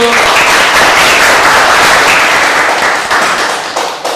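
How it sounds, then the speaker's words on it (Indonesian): An audience at a university student gathering applauds loudly, dense continuous clapping that holds steady and then gradually thins out toward the end. "kasih tepuk tangan ya semua dulu"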